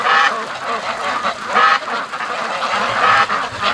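Free-range ducks in a flock quack steadily as they head to the lake, a dense, overlapping chorus with louder bursts recurring every second or so, outdoors and fairly close.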